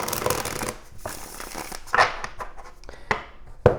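Tarot cards are shuffled by hand, close up, in quick papery riffling bursts with crisp snaps and slides of the deck, and no talking.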